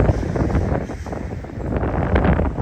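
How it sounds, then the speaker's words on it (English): Sharp wind buffets the microphone during a March walk through downtown Regina, a steady loud rushing roar that lasts the whole time with no voices. "The wind is sharp going this way."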